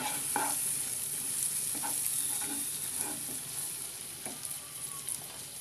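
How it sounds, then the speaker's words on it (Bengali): Masala with yogurt, garam masala and roasted cumin powder sizzles in a pan while a spatula stirs it, producing several distinct scraping strokes over a continuous frying hiss, with no voices. "এই মশলাটাকে ভালোভাবে ভুনে নেব।"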